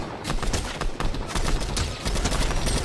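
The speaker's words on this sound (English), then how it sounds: "Where am I getting shot from?" Rapid bursts of gunfire crackle in a multiplayer shooter video game, a dense stream of close, sharp shots and automatic volleys with brief gaps, loud throughout the few seconds.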